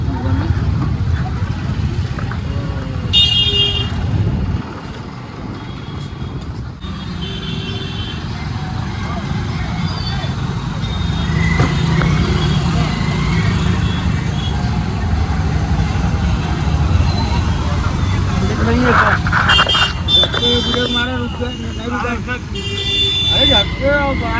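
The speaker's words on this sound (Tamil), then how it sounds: "பயங்கர டிராஃபிக்குங்க காசியே ஃபுல்லாக." Dense city traffic in Varanasi, with trucks, cars and buses rumbling close by and scattered horn toots breaking through, a steady loud roar throughout with voices talking over it.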